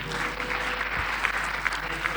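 Church congregation clapping and cheering in praise of God, a dense continuous burst of applause from a crowd with faint voices mixed in.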